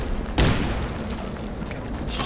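Gunfire in the Dredd vs. Death video game: one loud blast opens the clip, followed by a steady layer of muffled game noise, with a fainter burst near the end.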